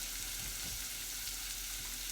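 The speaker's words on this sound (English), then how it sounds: "onions in, sizzling lovely" Onions sizzling in a frying pan at the start of a carrot and coriander soup, a steady soft hiss of frying that carries on without a break and with no voices.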